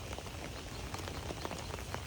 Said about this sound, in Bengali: 2 দিন ধরে বৃষ্টি হইতেছে